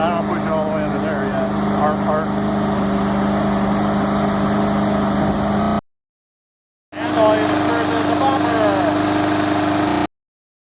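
A remote control gas lawn mower runs at a steady, buzzing small-engine drone, close and loud, cutting off abruptly for about a second before starting again at the same pitch.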